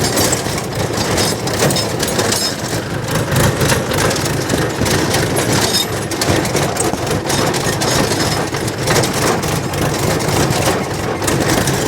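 Tractor engine idling nearby, a continuous low chugging rumble with steady rough texture and no talk.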